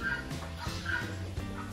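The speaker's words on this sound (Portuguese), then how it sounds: "a galinha de topete" A crested chicken clucks at a water park, giving a few short, nearby clucks over steady outdoor background noise.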